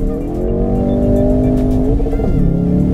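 A Ford Focus RS hot hatch launches hard on a wet road, its engine revving loud and close and climbing steadily in pitch, then a quick drop in note as it shifts up, with no talking.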